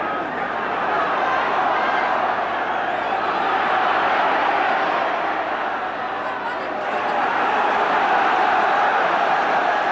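A football stadium crowd roars behind Ipswich at a 1984 league match, a continuous broad wash of cheering and chatter that swells and dips under commentary.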